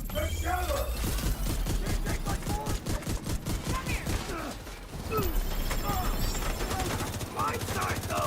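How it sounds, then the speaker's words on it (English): Heavy gunfire in a video game: dense, rapid, rhythmic shots run almost without pause, loud and close, with a brief lull midway and a voice faintly mixed in. "This is some heavy fire."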